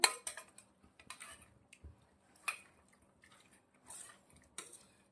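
A spoon stirs cucumber raita with ground red chilli and coriander-cumin powder in a bowl, giving scattered clinks, taps and soft wet squishes in uneven bursts, fairly quiet and close.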